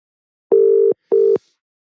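A telephone tone on a radio call-in line, two loud steady beeps in quick succession, the first longer than the second, with silence around them.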